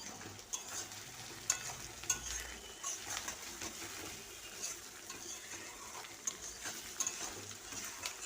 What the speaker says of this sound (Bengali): পেঁয়াজগুলোকে ভাজতে আমার সময় লাগবে তিন থেকে চার মিনিট